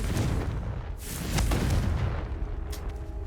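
A Confringo blasting spell in the video game Hogwarts Legacy erupts as a dense, rumbling explosion with crackling bursts, loud and sustained for a few seconds.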